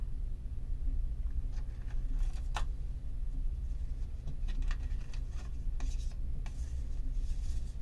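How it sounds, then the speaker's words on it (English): Oracle cards rubbed and shuffled by hand, soft papery scrapes and light taps in irregular bursts, close up, over a quiet room background with no talking. "I'm going to touch the cards one more time just to see if anything else comes through."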